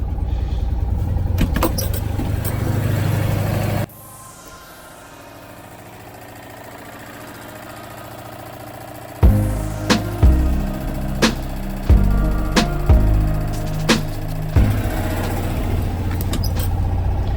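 A Citroen 2CV engine idles with a steady low putter, briefly muffled, then a series of sharp revs blipping up and settling back.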